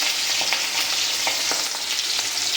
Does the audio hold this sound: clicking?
no